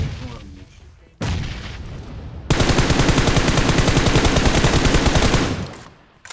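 A burst of loud, rapid gunfire-like blasts rattles in a dense stream after a couple of sharp booms from a grenade explosion in PUBG Mobile, then cuts off abruptly.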